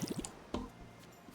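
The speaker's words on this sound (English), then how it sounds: "Water all of our wheat." Watering wheat crops in the video game Dinkum, a short quiet burst of splashing, dripping water sounds lasting about a second, close and soft.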